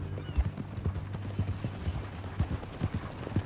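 Horse hooves clip-clop at a steady walking pace on a dirt trail in Red Dead Redemption 2, the muffled beats coming close and moderately loud under faint ambient sound, with no talk.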